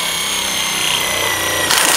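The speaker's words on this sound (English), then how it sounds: "now that I'm getting it going with the impact driver" An impact driver drives a screw into a cat tower with a loud, dense, rattling hammering burr that holds steady for two seconds, close up with no talking.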